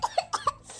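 An elderly woman gives four quick, close coughs in a short burst, then a faint breath trails after.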